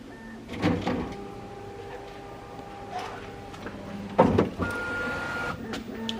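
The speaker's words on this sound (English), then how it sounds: "we're going to do the initial calibration thingy, and it makes a lot of noise" A new 3D printer runs its initial calibration, giving steady motor whines and hums, pitch shifts and a few clunks as the print head moves, close and fairly loud with no talking.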